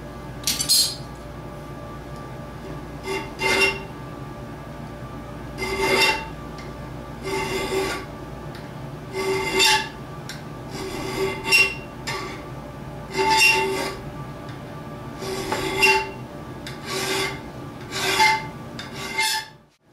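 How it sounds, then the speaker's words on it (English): A hand file rasps across steel knife joints in a series of repeated bursts of strokes with short pauses between them, close and fairly loud against a faint steady background hum. "You can see here that I filed and defined this area."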